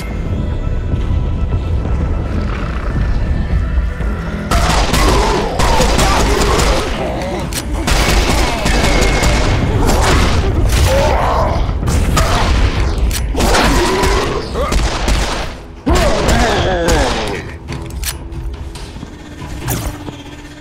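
Gunfire and explosions from the video game Serious Sam 4 blast loudly and almost continuously, with heavy booms and rapid mechanical clatter under busy game sound effects.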